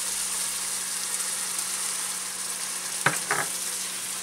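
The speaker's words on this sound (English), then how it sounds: "go ahead and add your olives" Olives going into a sizzling pan of sofrito for arroz con gandules: a steady hiss of frying, broken by two brief clattering drops and a stir near the end.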